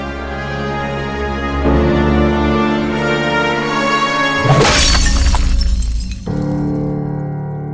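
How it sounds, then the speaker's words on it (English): A glass staff shatters against the ground in a loud, bright burst of breaking glass, followed by tinkling fragments, set against a sustained musical drone with no talk. "I'm going to shatter the glass staff on the ground."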